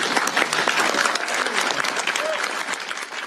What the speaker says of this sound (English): everyone can applaud and bump elbows